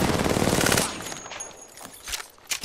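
A video game firefight opens with a loud, rapid burst of automatic gunfire lasting under a second, then trails off into scattered, quieter shots and distant crackles.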